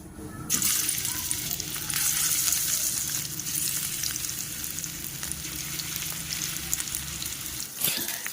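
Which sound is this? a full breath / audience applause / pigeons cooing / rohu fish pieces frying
rohu fish pieces frying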